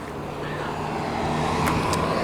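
A 2024 Porsche 911 Dakar with 37 miles on it rolls around a parking lot, a steady low engine hum and tire rumble holding at an even, fairly close level throughout, with a couple of brief bright clicks near the end.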